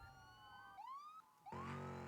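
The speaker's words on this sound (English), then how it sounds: "I can hear the sirens, which means they're just ever so slightly getting to the end" Police sirens in the BeamNG.drive driving game, a short rising wail sweeping upward twice, the second burst louder with a rough engine-like roar underneath.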